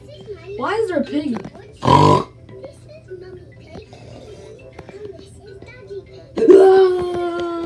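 Cartoon pigs from a Peppa Pig episode oink and squeal in short bursts, with a sharp snort and a childlike voice in between, played close and fairly loud.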